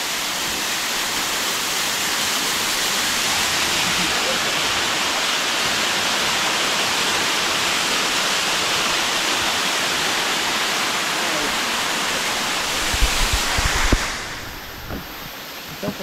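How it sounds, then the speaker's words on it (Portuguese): Bica Grande waterfall in Natuba environmental park, its steady broadband rush of falling water continuous and loud, with a brief louder disturbance near the end. "é a cachoeira da Bica Grande aqui em Natuba, no parque ambiental de Natuba."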